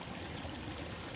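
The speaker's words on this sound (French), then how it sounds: "Je vous laisse sur le petit ruisseau." A small stream trickles and burbles steadily, a soft continuous wash of flowing water with no voices, heard alone at low volume.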